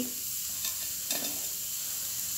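Garlic cloves and chopped onion frying in a pan, a steady close hiss of hot oil with a brief louder crackle or stir midway.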